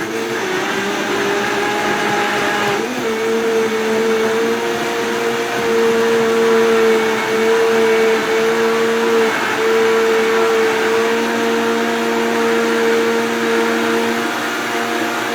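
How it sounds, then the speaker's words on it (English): A kitchen blender runs loud and steady for a smoothie, a continuous whirring motor that shifts pitch slightly as it churns, with no talking over it. "Bringing out the juice or the blender."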